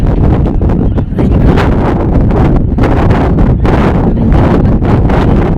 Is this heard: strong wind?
yes